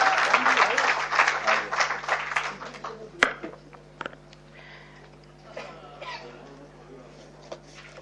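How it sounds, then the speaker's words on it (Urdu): Loud audience applause at a mushaira poetry gathering in Delhi, the Aalmi Mushaira 2016 for Jashn-e-Sahir Ludhianvi, dense clapping for the first few seconds that quickly thins into scattered claps and quiet room noise. "ایک بار ان کے کلام کے لیے زوردار تالیاں"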